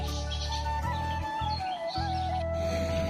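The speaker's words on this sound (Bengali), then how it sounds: "চারিদিকে অন্ধকার আর সুন্দর পাখির ডাক" Birds singing in the early morning dark on a road near a field, with thin whistled calls over a steady low hum of traffic or wind.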